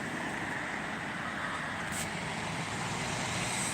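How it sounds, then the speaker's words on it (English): A truck passes on a road, a steady broadband rumble of traffic noise that holds at an even level throughout, with no voices over it. "heard a truck"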